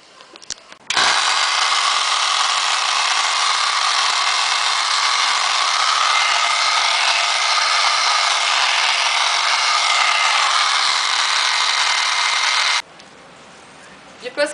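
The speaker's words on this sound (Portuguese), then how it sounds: "Só que ao usar o soprador térmico, você tem que tomar cuidado para não se queimar" Heat gun blowing hot air onto a painted MDF box, a loud, steady electric whine and rushing airflow switched on for about twelve seconds, then cut off abruptly.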